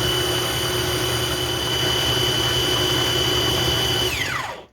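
A food processor whirs steadily with its blades chopping zucchini fritter mixture with roasted garlic, a loud constant motor drone with a tonal whine that holds for about four seconds, then winds down and stops.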